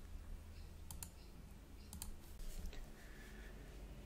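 A few sharp computer mouse clicks land about a second apart while a repository is created on GitHub, heard close and alone over a low steady hum.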